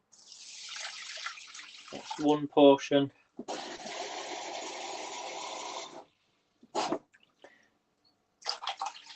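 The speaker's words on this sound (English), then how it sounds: "I can just pour this straight in. It doesn't have to be hot water." Tap water is poured straight into a pot for a Brazilian fish stew, a steady close splashing stream lasting a few seconds between bursts of someone talking.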